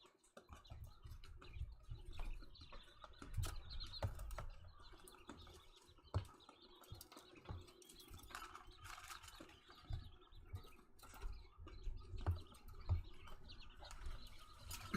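Faint, scattered chirps of young chicks over a low rumbling background, with occasional soft taps and rustles; no one speaks.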